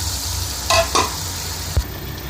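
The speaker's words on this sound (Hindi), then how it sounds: "आधा कप तेल में हम प्याज डाल देंगे। इसमें हम गोश्त डाल देंगे।" Onions and meat fry in half a cup of oil for a stew, giving a steady close sizzle with a couple of brief stirring scrapes and a soft knock.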